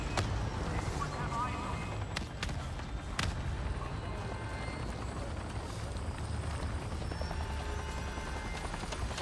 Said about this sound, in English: It's a quadcopter.